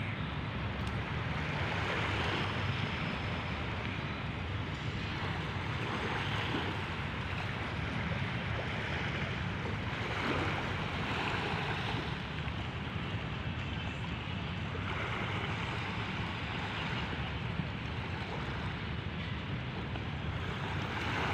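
Steady roar of rough water and strong waves on Manila Bay with wind buffeting the microphone, continuous and loud throughout, no voices.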